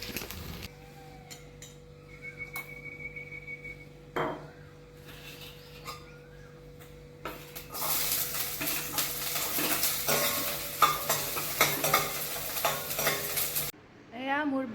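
Food sizzles and fries in a new wok (kadai) while a utensil stirs and scrapes against the metal, quiet at first and then a louder, continuous crackling sizzle with clinks of cookware; no talking.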